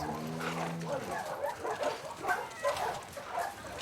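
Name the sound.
dogs barking in The Last of Us Part II video game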